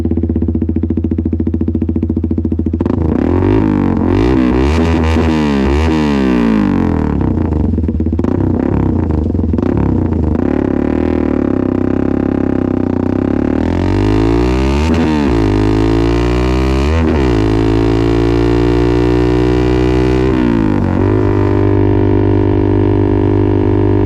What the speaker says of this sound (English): with the street pipe full system exhaust, the sound from here straight to the muffler, because there's no catalytic converter, so that's why the sound is too loud